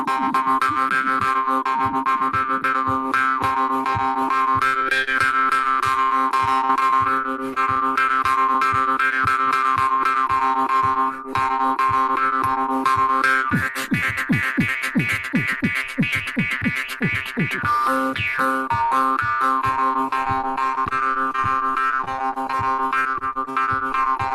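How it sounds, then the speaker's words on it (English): A twangy jaw harp, using the player's head as a resonator, plays a continuous buzzing drone, its pitch and overtones sliding as the mouth shapes the sound, with a faster rhythmic passage midway. "This thing is a jaw harp."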